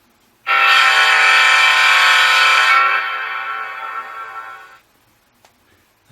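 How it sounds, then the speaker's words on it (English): An N scale GE GTEL 8500 model locomotive sounds its horn through an onboard sound decoder with an echo effect, a loud sustained blast of about two seconds that drops away into a fading reverberant tail, with no talking. "Let's do it one more time so you can hear the echo."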